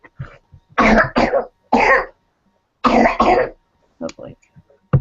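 A person coughs in several harsh, separate bursts, some in quick pairs, close and loud, with short silent gaps and a few softer throat sounds at the end.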